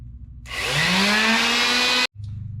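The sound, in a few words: quarter sheet sander with 220 grit sandpaper sanding wood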